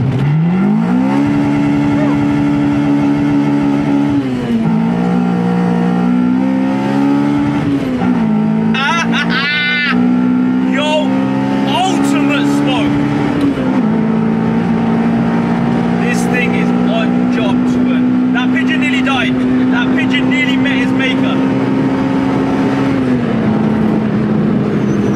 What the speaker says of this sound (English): I'm about to launch control this EP3 Type R